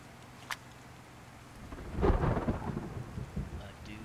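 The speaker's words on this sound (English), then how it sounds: "It's thunderstorm." A thunderstorm in a video game server: a rumbling peal of thunder swells midway and rolls on over steady rain, with a sharp crack just before.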